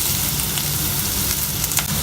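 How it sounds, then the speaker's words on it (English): Shallots frying in oil for a prawn curry make a loud, dense, continuous sizzle close up, with small pops and no voices. "I'm going to fry the shallots for a little while"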